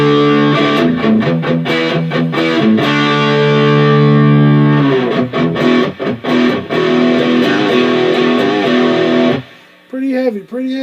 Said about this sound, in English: Here's distortion all the way.